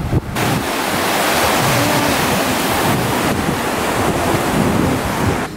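Ocean surf rolls onto a Cancun beach in a continuous loud rush, heavily buffeted by wind gusting across the microphone, with no voices.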